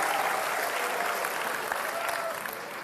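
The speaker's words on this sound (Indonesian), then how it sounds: "Kita berikan aplaus untuk keduanya dulu" Steady, dense applause from a live studio audience of a televised Jakarta governor election debate, sustained clapping for both candidates at even loudness, fading slightly at the end, with no voices over it.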